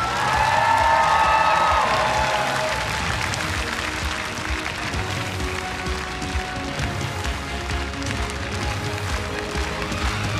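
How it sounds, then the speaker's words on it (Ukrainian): Large hall audience at a Eurovision national selection broadcast applauding and cheering for Jamala, a dense, loud, sustained roar of clapping with whoops, steady throughout. "Ваші оплески, панове, Джамала!"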